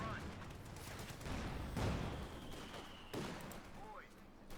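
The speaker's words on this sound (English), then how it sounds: "Heavy mortar bombs again." Heavy mortar bombs land in Company of Heroes 2, a battle between OKW and USF forces, with booming impacts and scattered gunfire under a commentator's steady talk.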